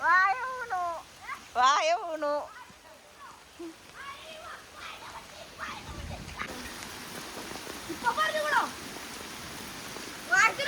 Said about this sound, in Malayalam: പെട്ടെന്ന് ഇങ്ങനെ മഴ പെയ്യുന്നത്